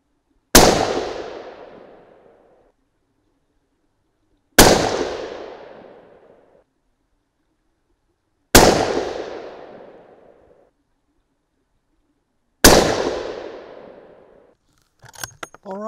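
A .300 Win Mag rifle firing 200-grain SMK handloads with IMR 7977 powder: four loud, close shots spaced about four seconds apart, each sharp crack trailing into a long echoing decay, followed by a brief clatter at the end.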